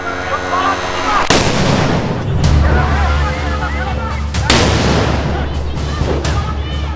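Loud explosions and bursts of gunfire fill a training drill for Indonesian fisheries patrol vessel crews, with sharp blasts standing out against a continuous roar. Voices can be heard in the background.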